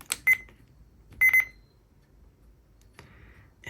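A Reizen talking atomic travel clock sounds its alarm: two short bursts of bright repeated beeps, the first around the start and a second triple-pulse cluster a second later, close and clear over a quiet room.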